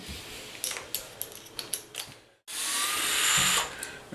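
A power drill spins off the wheel lug nut on a Traxxas Maxx RC car, a short run of clicky ratcheting bursts followed by a loud, steady whirring spin up close, with no talking.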